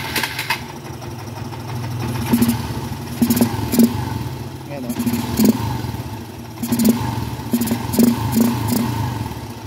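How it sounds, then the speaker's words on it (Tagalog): A Honda XR150 motorcycle engine running without its air filter idles with a rough, raspy putter, revving up in short bursts several times; a voice speaks briefly. "pakinggan muna natin kung ano nga ba yung tunog ng motor natin pagka wala siyang air filter."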